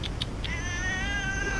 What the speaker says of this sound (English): Our little cat's followed me while we've been moving rooms